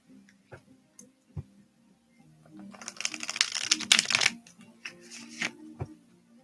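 Tarot cards shuffled by hand, a burst of rapid riffling and flicking that swells in the middle, framed by scattered single taps and soft clicks of cards being handled.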